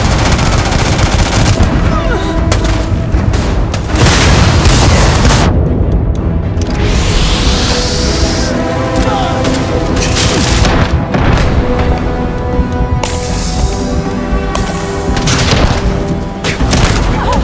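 Gunfire and explosions in the sci-fi video game Starfield: loud, dense, continuous rapid shooting with heavy booms and blasts throughout, a sustained barrage in a chaotic firefight.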